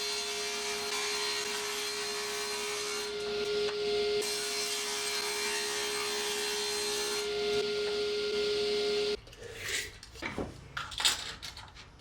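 A saw, likely a table saw, cuts old plywood pieces with a high steady whine and a sustained tonal hum for several seconds, then stops, leaving a few scraping, clattering handling noises.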